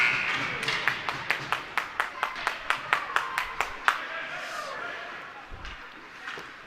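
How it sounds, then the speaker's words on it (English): Spectators at a hockey game clap in a sharp, regular rhythm of about fifteen claps, then the clapping stops and faint crowd murmur and a commentator's voice continue underneath. "luckily I won't have to listen to the clapping anymore."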